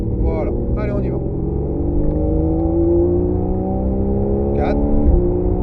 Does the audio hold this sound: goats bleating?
no